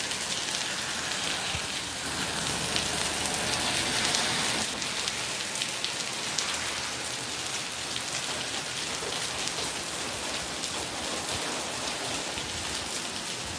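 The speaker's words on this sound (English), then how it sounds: "Well, that was a nice downpour." A heavy monsoon downpour in Las Vegas pounds steadily on surfaces nearby, a dense, constant roar of rain with scattered close drops and no voices.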